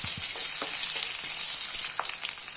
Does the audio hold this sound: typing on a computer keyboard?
no